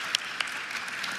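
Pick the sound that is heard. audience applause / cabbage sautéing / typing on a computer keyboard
audience applause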